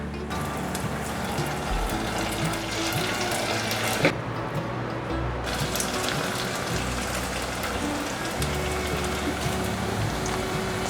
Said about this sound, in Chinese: 油已经热了，把蚵仔放进来炸。